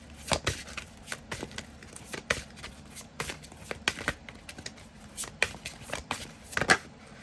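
Tarot cards being shuffled by hand, a steady run of crisp riffles and flicks close to the microphone, repeating irregularly for several seconds with no talking.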